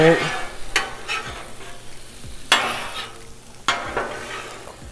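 Margarita shrimp sizzle on a Blackstone griddle while a spatula stirs and scrapes them, several sharp metallic scrapes breaking through a steady close frying hiss, no talking.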